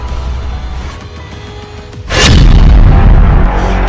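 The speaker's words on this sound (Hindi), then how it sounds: "इसके गली के एक मुहाने पर खड़े इजरायल के मरकाबा टैंक को यासीन रॉकेट से टारगेट किया जाता है।" A Yasin rocket strikes an Israeli Merkava tank in a street during urban guerrilla fighting, one sudden loud explosion that booms and rumbles on after a quieter stretch of background noise.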